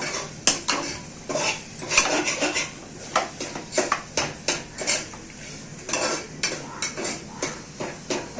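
A utensil scrapes and taps repeatedly against a pan in an uneven rhythm over a soft background sizzle of food frying.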